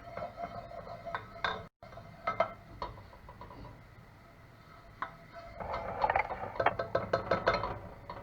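Repeated metallic scraping and clinking of a utensil stirring oil inside a pot, fairly close, growing busier and louder toward the end.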